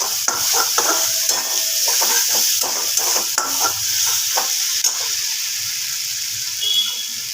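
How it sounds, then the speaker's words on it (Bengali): Mustard and poppy seed paste hits a hot frying pan for a boal fish curry, giving steady close sizzling with repeated scraping and stirring clinks, and a short trickle of water near the end. "এই যে আমি সর্ষে পোস্ত পেস্টটা করে রেখেছি শিলে ওটা দিয়ে দেবো"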